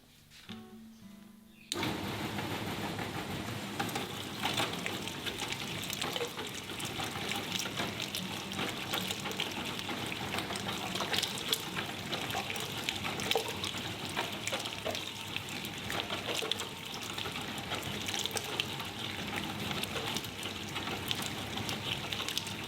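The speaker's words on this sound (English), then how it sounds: "We've just done our first mince through the 12mm screen" Pork being pushed through a meat mincer fitted with a 12mm screen, a steady continuous grinding whir starting abruptly after a brief quiet moment and running evenly, with wet squelching texture.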